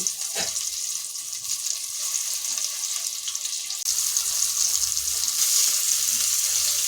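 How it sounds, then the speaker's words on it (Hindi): Raw banana pieces fry in hot oil in a pan, a steady close hiss and crackle of sizzling that holds throughout, with faint soft clatters beneath. "तेल अच्छे से गर्म हो गया है तो हम पैन में केले के पीसेस को डालकर इसे फ्राई कर लेंगे"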